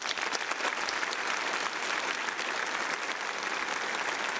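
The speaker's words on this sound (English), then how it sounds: "how about a round of applause for everyone?" An audience at a US Navy change-of-command ceremony gives sustained applause, a broad uniform clatter of many hands heard from some distance and without a break.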